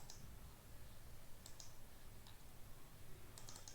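Keys tapped on a computer keyboard during Android AIDL client-server programming, a few faint scattered clicks in small bursts over a steady low room hum.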